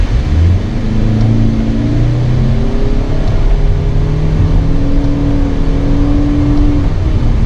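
2025 Toyota Camry XSE AWD hybrid with eCVT, accelerating hard in sport mode through simulated paddle-shifted gears: loud, close engine drone with rising pitch that steps down at each shift, then climbs again, heard from the cabin with no talk.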